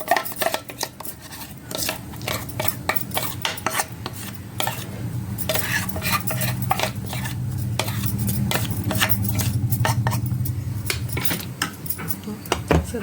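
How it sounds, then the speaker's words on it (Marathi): Dhokla batter being poured and scraped from a bowl into a pressure-cooker container, with repeated close metallic spoon scrapes and taps against the vessel and a soft steady pouring underneath. "हे बघा ह्याच्यात ओतून घ्यायचं भांड्यामध्ये, कुकरच्या डब्यामध्ये"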